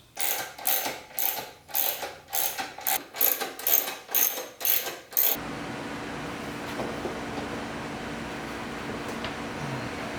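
A ratchet wrench loosening the luggage rack bolts on a Honda CRF300L motorcycle, about a dozen sharp rhythmic clicking bursts up close, then stopping and leaving a quiet room-tone hiss.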